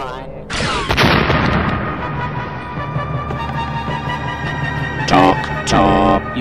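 A single heavy cannon boom goes off after a countdown, its loud blast decaying into a long rumble, then a couple of sharp, bright bursts follow near the end.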